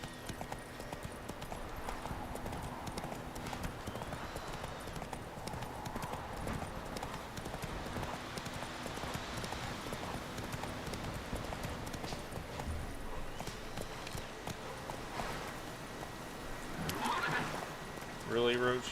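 In The Witcher 3 video game, a horse's hooves clip-clop continuously at a steady gait, with a whinny near the end, set against a constant ambient game soundscape.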